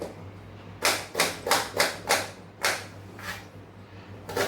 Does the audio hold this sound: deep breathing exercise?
no